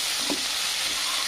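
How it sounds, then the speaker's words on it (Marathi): Tomatoes frying in a pan for a drumstick-pod curry give a soft, steady sizzle and hiss with a brief stir-like bump near the start, no voices. "टमाटर असं छान फ्राय होऊ द्यायचं"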